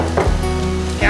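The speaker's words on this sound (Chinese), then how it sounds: "我们就下我们的白花椰菜" Cauliflower hits a hot wok of fried minced garlic with a sudden loud sizzle that carries on through the short moment, with a brief clank at the start and end.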